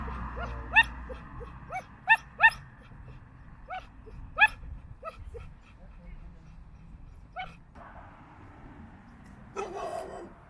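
A dog barks in short sharp bursts at a dog park, several quick barks spaced across the clip at moderate distance, with a voice speaking briefly near the end.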